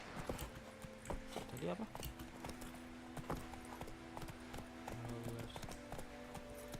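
Roach the horse's hooves clip-clop steadily at close range in The Witcher 3, a rhythmic walking patter running throughout under game music tones and a streamer's voice talking.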